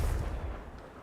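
In Hogwarts Legacy, the fire spell Incendio and the explosive spell Confringo are cast, producing heavy, rumbling bursts and crackling blasts that roll on continuously and loudly before easing slightly. No talking.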